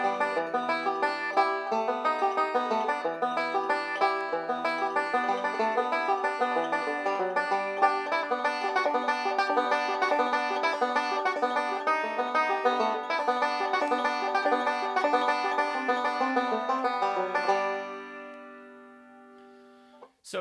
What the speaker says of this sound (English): Here's the B part for Blackberry Blossom.